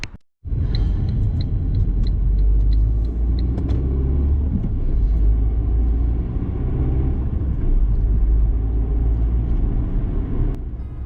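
A car drives down London Road in Balderton, near Newark, giving a steady low rumble of engine and road noise from inside the vehicle, with a few faint ticking clicks early on and no talking.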